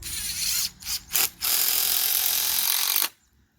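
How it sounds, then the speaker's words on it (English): A handheld screw gun drives screws into recycled pallet boards for a raised garden bed, giving a loud close whirring burst, a couple of brief stuttering pulses, then one long sustained drive before cutting off. "I'm going to go ahead and get that screwed in here. Take my screw gun."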